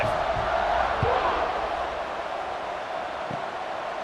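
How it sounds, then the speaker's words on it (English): Stadium crowd in the College Football 26 video game cheering during a kickoff after a scoring drive, a steady, broad roar of crowd noise that stays loud throughout and fades slightly toward the end. "this crowd is feeling themselves after that last drive"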